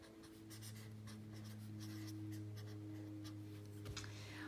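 Pen writing out a math problem on exponential decay: soft, steady scratching strokes over a constant low electrical hum, faint and close, no speech.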